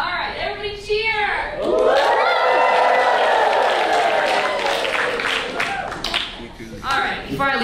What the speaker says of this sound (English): All right, everybody cheer!